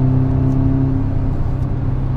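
A 2017 Audi S3 engine hums loudly and steadily up close, a deep even drone with a slight whir, no clear rev rise.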